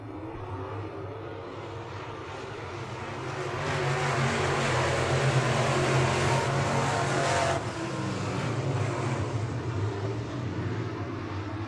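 Dirt track race cars roar through a qualifying heat race at Victory Lane Speedway in Manitoba, a continuous engine drone that swells louder in the middle as the pack passes, then eases slightly, heard from a distance.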